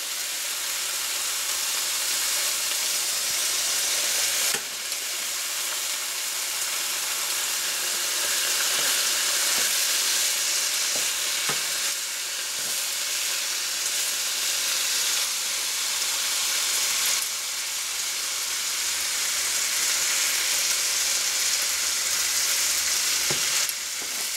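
Bacon sizzles in a frying pan over medium-high heat, a loud continuous crackling hiss with occasional sharper pops and small clicks, and no voices.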